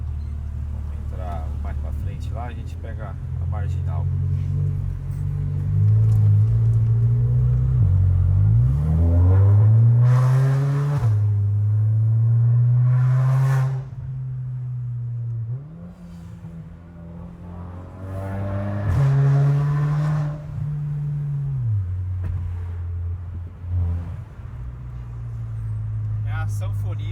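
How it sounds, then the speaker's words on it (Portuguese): Volkswagen Golf GTI MK7 exhaust roaring loudly while driving, a sustained deep drone that rises and falls with throttle in several revving surges, with people talking over it. "Berra muito o escape."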